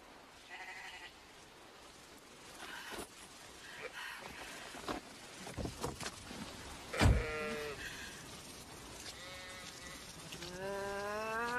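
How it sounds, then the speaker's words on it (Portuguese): Sheep bleat repeatedly in a dubbed horror film scene, with wavering cries rising toward the end over a faint outdoor background, one sharp louder burst midway, and no talking. "Porcaria de ovelha!"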